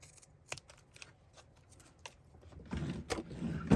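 Scissors snip through paper, cutting straight down the middle with a few crisp, scattered snips before a denser stretch of cutting and rustling near the end, close and moderately quiet.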